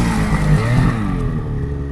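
A snowmobile engine revs loud and close, with a strong, steady drone that swells briefly and then settles into a sustained high-revving note.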